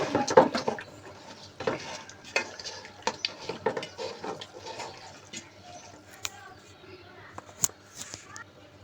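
Beef mixed by hand with mustard oil and spices in a bowl, soft wet squelching and stirring with occasional clinks of the dish, close and moderately quiet, with someone talking throughout.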